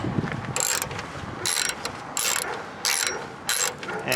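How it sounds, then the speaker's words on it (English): A ratchet wrench loosens a 10mm bolt on a Toyota car battery hold-down bracket. Five short, crisp bursts of rapid clicking come close by, separated by brief pauses. "This is also 10mm, so just put your wrench on there."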